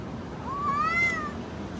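A single cat gives one drawn-out, rising and falling meow, fairly close and clear over a low background hum of a busy outdoor market area.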